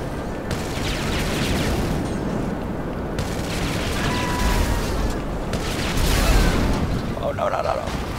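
An A-10 Thunderbolt Warthog jet mod in Grand Theft Auto 5 fires its cannon over a constant loud engine roar. The gunfire forms a dense, rumbling burst that swells near the end.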